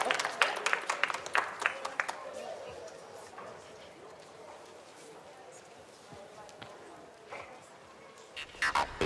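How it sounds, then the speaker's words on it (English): Audience at a business innovation conference held in a church claps, a burst of scattered applause at the start that thins into a low murmur and swells again near the end, with voices mixed in. "a round of applause"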